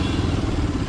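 A motorcycle engine being cranked with its electric starter, a brief, close, low rumbling churn with a rough mechanical texture.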